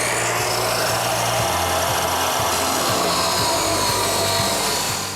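A steel bar clamped in a vise is cut through with a power saw for a storage ottoman frame, a loud, continuous grinding whine close by with a slight wavering pulse throughout.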